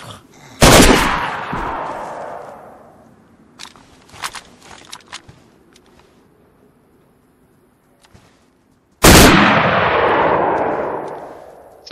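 Two loud, close blasts from a sawed-off double-barrel shotgun in DayZ, the second several seconds after the first, each with a long decaying tail, separated by quieter clicks and handling clatter.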